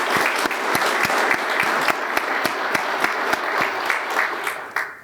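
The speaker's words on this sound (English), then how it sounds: "I think we should give both of these gentlemen a round of applause for their efforts." An audience at a SECO Energy District 7 meeting applauds, a dense, continuous clapping with a few sharper close claps standing out, sustained for several seconds and tapering slightly at the end.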